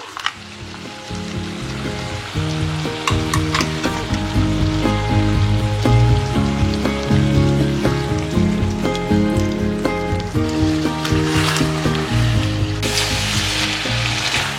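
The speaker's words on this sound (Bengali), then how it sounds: "এবার দেখো আমি এর মধ্যে অ্যাড করে দিচ্ছি কাজু আর পোস্ত বাটা" Cashew and poppy seed paste going into a pot of simmering chicken rezala: a loud, continuous close sizzle and bubbling that swells after the first second and holds steady over a sustained tonal background, with no voices.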